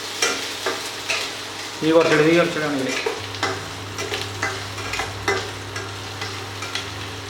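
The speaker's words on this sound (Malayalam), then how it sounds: "ചട്ടിയിൽ വെളിച്ചെണ്ണ വാർന്ന് ഉള്ളി, ചെറിയ ഉള്ളി, പച്ചമുളക് ചെറുതായിട്ട് അരിഞ്ഞത് നമ്മളൊന്ന് വഴറ്റിയെടുക്കാം." Onions, shallots and green chillies sautéing in coconut oil in a pan. A steady sizzle with repeated scrapes of stirring, and a louder burst of frying partway through.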